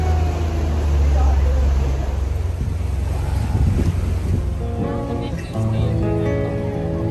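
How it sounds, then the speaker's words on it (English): Water taxi crossing open sea toward Granville Island, with a steady roar of engine and rushing water under heavy wind buffeting on the microphone, loud and continuous throughout. "Gonna take a water taxi to Granville Island."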